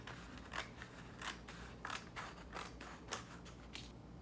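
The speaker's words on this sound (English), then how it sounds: "You're going to take your scissors and cut right down the middle" Scissors snip through stiff construction paper in a steady series of crisp cuts, close up over a faint background hum.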